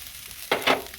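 Ginger, cumin and garlic paste frying in oil for khichuri: a soft background sizzle that swells into a short burst as the paste is stirred.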